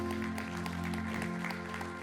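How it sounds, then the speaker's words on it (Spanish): A church congregation claps during a worship service, with scattered hand claps over a sustained musical drone and a low hum, fairly quiet and continuous throughout. "Dale un aplauso al Señor."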